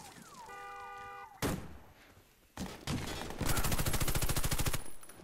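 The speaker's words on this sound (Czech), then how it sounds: "Tebe tady po mně zase střelil ten sniper" Gunfire in the video game Warface, with clipped weapon cracks, a sharp report, then a sustained rapid burst of automatic fire near the end, over electronic game tones.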